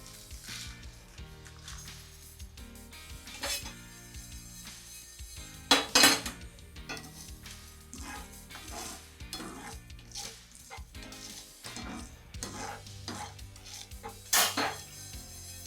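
Cloves, black peppercorns and fennel seeds fry in a pot outdoors in a green jungle setting while a metal spoon stirs them, giving a soft sizzle under repeated scraping and sharp clinks against the pot.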